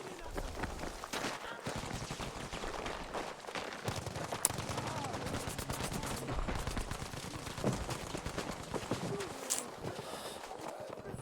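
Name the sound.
gunfire in a video game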